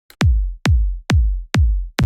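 Heavy, crunchy electronic kick drum in a trance production, five booming hits at a steady tempo, each with a sharp click on top and a deep, saturated low tail that rings until the next beat, loud and alone.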